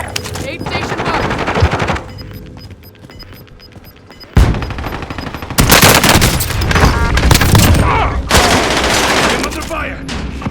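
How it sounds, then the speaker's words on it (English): Gunfire in a Battlefield shooter game set on Alcatraz, with loud bursts of rapid automatic fire and booming shots crowding most of the clip, broken by a brief quieter stretch, while in-game voice callouts sound underneath. "I'm under fire!"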